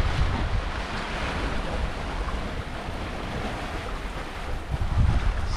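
Open ocean waves and strong wind buffeting a sailboat at sea, a constant rushing wash with low rumbling surges and mic wind noise, no voices.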